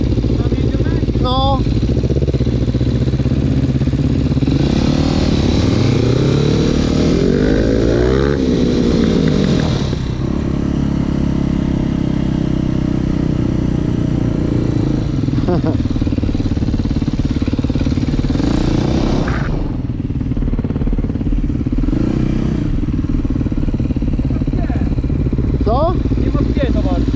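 Quad bike engines buzzing and revving nearby, a continuous loud throaty drone that rises and falls over half a minute while people talk over it.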